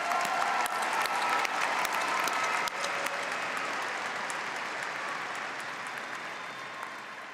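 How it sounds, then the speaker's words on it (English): Sustained audience applause at a fall commencement ceremony, greeting newly conferred EdD, PhD and OTD doctoral graduates; dense, steady clapping from a large crowd that gradually tapers over several seconds. "would the audience join me in applauding our newest EDDs, PhDs, and OTDs"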